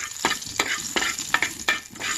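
Mustard and other tempering seeds crackle and sizzle in hot oil for a coriander chutney, with a steady frying hiss broken by repeated sharp popping bursts, close and fairly loud, and no talk.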